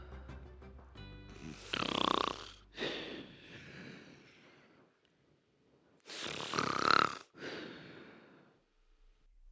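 Two long snores several seconds apart, each a raspy, rattling inhalation rising and fading, with quiet breathing between them in a hushed room.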